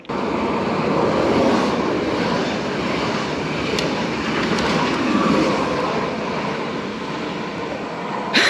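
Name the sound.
train passing station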